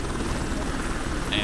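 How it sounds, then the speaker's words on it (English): Helicopter in the video game Crime Boss, a steady close rotor thrum droning throughout with a brief high tone near the end. "Move to the helicopter."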